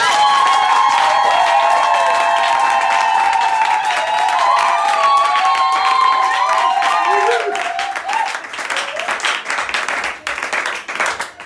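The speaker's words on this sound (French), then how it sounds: "Alors, acclame très fort le Seigneur" A church congregation at a French-language sermon breaks into loud, sustained applause and cheering, with dense clapping and raised voices that thin into scattered claps toward the end.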